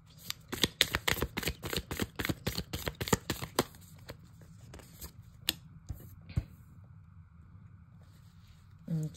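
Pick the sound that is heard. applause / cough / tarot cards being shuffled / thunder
tarot cards being shuffled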